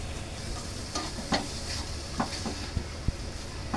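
Marinated vegetables go into a pan of spices for veg biryani, with turmeric, red chilli powder, garam masala, coriander powder and asafoetida, giving a steady close sizzle broken by a few sharp utensil knocks and stirring scrapes, no speech.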